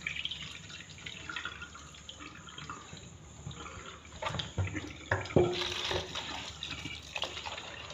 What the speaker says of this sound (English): So I'm going to pour out the hot water.